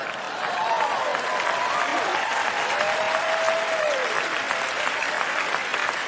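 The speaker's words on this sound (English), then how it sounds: "You don't have to hold the applause inside, Ted." Sustained applause from a TED talk audience, a broad even roar of many clapping hands, with a voice and a few cheers rising briefly above it.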